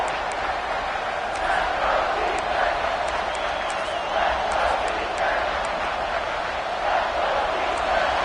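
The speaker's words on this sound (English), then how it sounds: "here comes the noise. This crowd is trying to inspire this defense to make a big red zone stop." Stadium crowd at a Texas A&M college football game against Alabama keeps up a loud, continuous roar during a red zone defensive stand, with whistles and shouts rising in waves.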